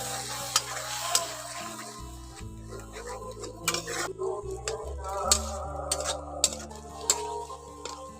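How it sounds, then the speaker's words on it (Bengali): Spice paste for a tangra fish curry is stir-fried with a little water, producing a low sizzle broken by repeated sharp clicks and scrapes of a spoon against the pan, nearby and moderately loud. "জলটা দিয়ে মশলাটাকে একটু ভালো করে কষে নিতে হবে।"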